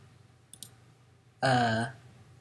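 Two quick mouse clicks on the done button in Gameband animation software, followed a moment later by a short, bright tonal chime. The setting is otherwise quiet.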